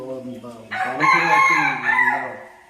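A domestic rooster crows at a village temple, one long loud cock-a-doodle-doo close by with a sharp rising start and a drawn-out harmonic wail that fades at the end.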